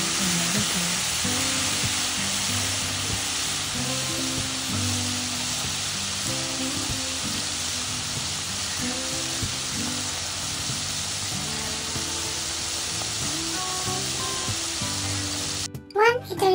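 Whitebait fish deep frying in hot oil, a steady dense sizzle and crackle running unbroken and fairly loud, with low clatter of stirring underneath, cutting off abruptly at the end.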